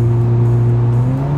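A car of about 1200 horsepower hums steadily on the German Autobahn with a low, rising drone, the pitch climbing gradually as it accelerates, close and continuous with no voices.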